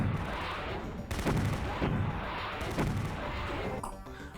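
AK rifle fire in a Doom mod game comes as heavy, booming shots in uneven bursts, loud and close, with a few dense volleys and short gaps between them.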